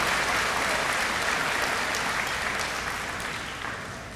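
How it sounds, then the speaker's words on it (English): A dense, loud burst of audience applause at a high school senior completion ceremony, sustained and even before tapering off slightly toward the end. "That deserves a round of applause."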